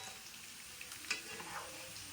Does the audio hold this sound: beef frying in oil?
yes